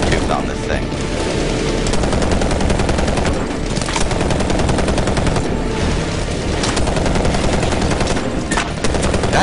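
Heavy automatic gunfire from the video game Medal of Honor Warfighter rattles in dense, continuous bursts, loud and close, with scattered sharper shots throughout and a player's voice faintly underneath.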